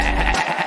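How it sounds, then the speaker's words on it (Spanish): A goat's bleat, a single loud, wavering animal cry close by, with no speech over it. "La cabra."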